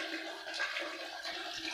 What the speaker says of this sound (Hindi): ये देखिए, इतनी आ गई पानी में, इतना पानी आ गया डिग्गी के अंदर।